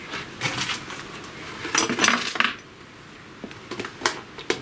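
A metal drain tray set down beneath the carburetor of a 1937 Briggs and Stratton Model A engine, giving a few light clanks and scrapes of thin metal, close and fairly soft.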